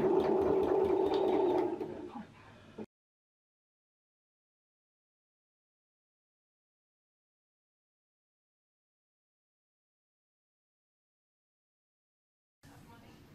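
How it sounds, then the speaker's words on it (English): A sewing machine stay-stitches around the neck edge of a jacket at a 5/8-inch seam allowance. It whirs steadily and close for under three seconds, a voice is faintly present, and then near silence follows until a brief sound at the very end. "just doing my stay stitching around this neck edge here"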